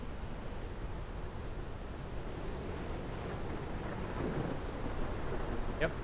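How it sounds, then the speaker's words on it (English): Thunder from a lightning strike during a storm on the planet Pertum in the video game Space Engineers, a low continuous rumble mixed with wind-like noise that swells slightly toward the end. "The lightning strike."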